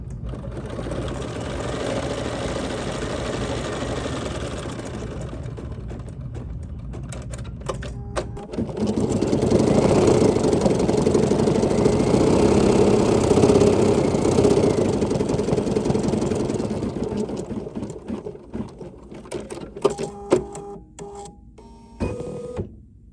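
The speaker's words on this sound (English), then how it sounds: "now once I've backed up, I can go ahead and start stitching again" A Bernina 735 embroidery machine stitches steadily and close by, a continuous whirring, rapid needle drone that grows louder midway and then stops, followed by a few light clicks and taps.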